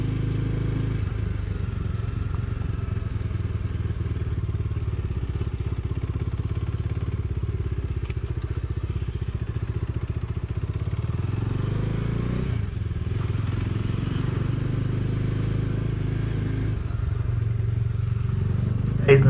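A Bajaj Dominar 250 motorcycle with a 248.77 cc engine is ridden on the road, its steady mid-pitched engine drone and wind rush continuous and close throughout, with a brief dip partway through and a small bump near the end.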